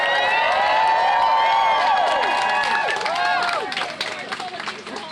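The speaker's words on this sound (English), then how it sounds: "let's give one big round of applause for all of our speakers" A crowd at an abortion-rights march applauds and cheers for its speakers, loud and dense at first, then thinning and fading out over the last seconds.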